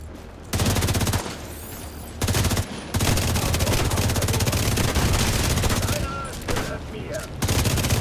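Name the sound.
gunfire in video game The Division 2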